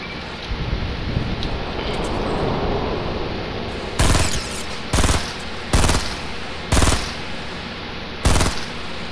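Shotgun blasts in the video game Fortnite: five loud, heavy booms at roughly one-second intervals, following a stretch of steady rushing wind-like noise.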